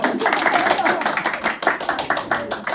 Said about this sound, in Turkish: Alkışlar insana. Bravo!